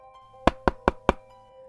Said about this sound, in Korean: 누군가 창문을 두드리는 소리가 들렸습니다.